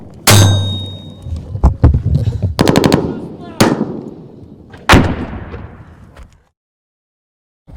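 Soldiers fire mortar rounds in the open, each launch a loud, sharp blast followed by a decaying rumble, about four heavy reports over several seconds before silence.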